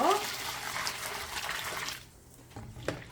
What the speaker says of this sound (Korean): 물을 끓는 물을 바로 이렇게 오이에다 부으세요.